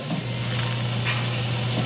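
Vegan casserole filling sizzling in a frying pan on the stove, a steady close hiss of frying with a faint stirring scrape partway through, continuous and without pauses.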